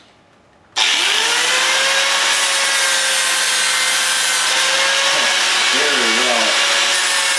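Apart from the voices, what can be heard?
angle grinder with 60 grit flap disc removing paint from metal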